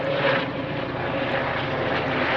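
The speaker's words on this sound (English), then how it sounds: "Noisy helicopters." Low, steady drone of aircraft passing overhead for a couple of seconds, continuous and fairly loud with no talking, fitting noisy helicopters flying over a campsite.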